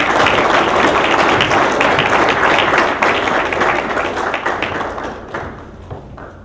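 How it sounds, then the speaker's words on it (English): An audience at an awards ceremony claps loudly in a full, continuous round of applause that gradually tapers off into scattered claps. "Give them an extra round of applause."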